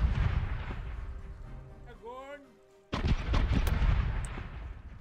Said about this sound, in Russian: Пушки к бою готовы.